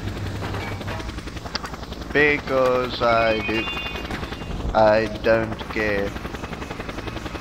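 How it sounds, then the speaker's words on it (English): Helicopter in the Just Cause video game, its steady rotor drone running throughout at close range while someone talks over it in short bursts. "I'm gonna just, take the helicopter again,"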